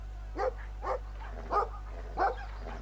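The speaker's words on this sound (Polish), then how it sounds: "Ło, jakie psy." Dogs barking in the video game Brothers: A Tale of Two Sons, four separate barks spaced about half a second apart over a steady low hum.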